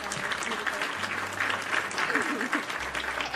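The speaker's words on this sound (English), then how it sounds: "I'll give it a round of applause for Miss Xylia." Steady applause from a crowd fills the whole stretch, with some cheering or talk mixed underneath.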